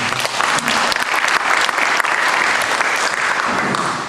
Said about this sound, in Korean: 말씀 주신 목사님께 큰 박수 받으십니다.